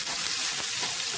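Food sizzling steadily in a pan with a little oil, a close, even hiss with faint crackles through a brief moment.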